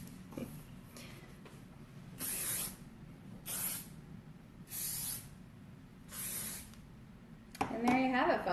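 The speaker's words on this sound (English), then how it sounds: "before you put the finishing spray on there" Several short hissing bursts of hairspray, evenly spaced, close by, with a brief rustle at the end.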